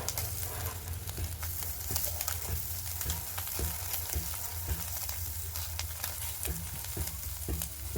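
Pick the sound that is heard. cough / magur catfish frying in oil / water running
magur catfish frying in oil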